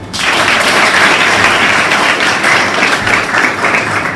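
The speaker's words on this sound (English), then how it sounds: "Very good, clap for her." Class X students clapping together for a classmate in a motivation class, a loud, dense burst that starts abruptly and holds steady for several seconds.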